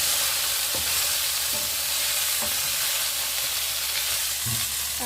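Chicken pieces sautéing with garlic in a hot pan for a honey glazed dish, a loud, steady sizzle and crackle broken by a few soft knocks and scrapes of stirring, with no talk.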